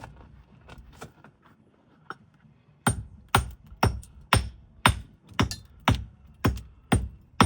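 Hand hammers, with no power tools, strike hard and close: scattered light taps at first, then a steady run of about a dozen sharp, ringing blows roughly every half second.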